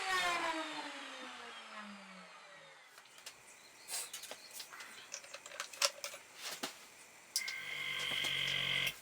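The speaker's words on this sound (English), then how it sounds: "I'm using the router to add a groove that will hold the mirror in place" A router used on a wooden box winds down with a falling motor whine, then comes scattered clicking and handling noise before a steady whirring starts up again.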